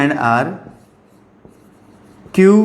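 Marker or chalk strokes on a classroom board during a Class 9 maths lesson, a short scratchy writing sound between spoken explanation, with a teacher talking at the start and end.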